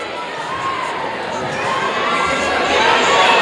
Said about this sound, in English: Estevan's crowd is getting overhyped for a travel.